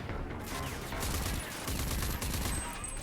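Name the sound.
gunfire in the video game Rage 2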